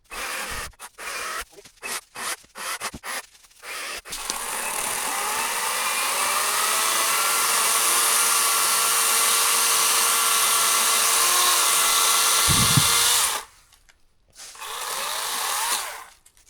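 A chainsaw cutting trees, short bursts at first, then a long sustained high-revving cut that ends abruptly before a brief final rev, loud and close with no voices.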